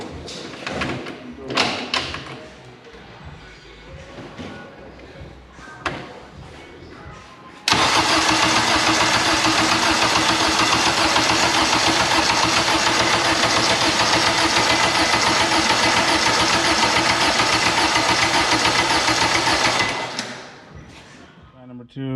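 A Honda K24 engine swapped into an AWD Integra with FuelTech management cranks and fires after some clatter and voices, then holds a loud, steady idle for about twelve seconds before shutting off.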